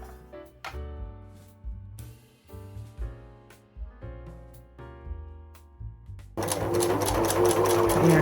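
A sewing machine stitches fabric scraps for a cable organizer; piano-like music with a regular rhythm plays first, and then the motor kicks in as a loud, dense whir that runs through the last seconds.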